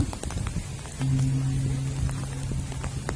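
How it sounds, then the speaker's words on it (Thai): Rain falls steadily at a Thai temple merit-making ceremony, a dense close patter of drops on surfaces with a low droning tone joining partway through and no talk. "ฝนตกชุ่มเย็นหนาว"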